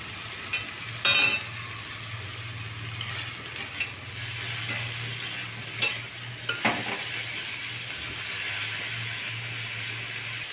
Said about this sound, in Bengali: কুচিয়ে রাখা শাকগুলো সব দিয়ে দিলাম এরপর এর মধ্যে একে একে নুন হলুদ চিনি দিয়ে ভালোভাবে নাড়িয়ে নেব